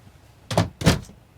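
An RV wardrobe door being opened, giving two close, distinct knocks or thunks about a third of a second apart in an otherwise quiet interior.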